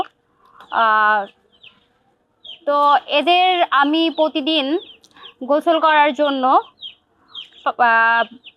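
Young ducks about a month old, raised on a rooftop, give short repeated calls while a person talks over and between them.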